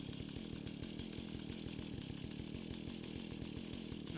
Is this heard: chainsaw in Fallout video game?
yes